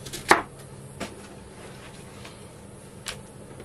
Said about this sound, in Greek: όλα τα υλικά μας τα θέλουμε κομμένα σε φέτες